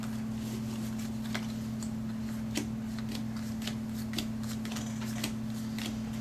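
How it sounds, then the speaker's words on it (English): Star Realms game cards being shuffled by hand: a run of soft, scattered papery clicks and riffles, fairly quiet, over a steady low electrical hum with no talking. "I have 2 cards, so now I have to shuffle again."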